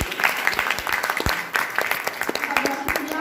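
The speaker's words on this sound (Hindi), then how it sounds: "एक बार जोरदार तालियां मांगती हूँ राघवेंद्र को देते हुए" Loud, enthusiastic applause from the audience at a women's poetry gathering, given for Raghavendra; dense clapping sounds close and continuous throughout.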